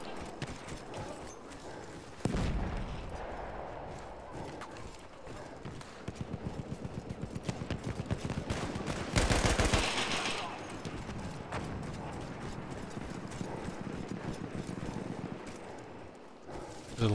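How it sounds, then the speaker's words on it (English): Gunfire in the video game Battlefield 1, with rapid automatic bursts and scattered heavy shots. A loud blast comes early and another midway, and a voice talks over the battle. "Gunfire come from this side."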